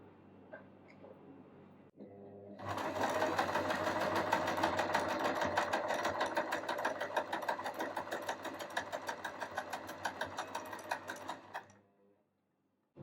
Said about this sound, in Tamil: இறக்கி விட்டுக்கிட்டு இப்போ ஸ்டிச் பண்ணிக்கலாம்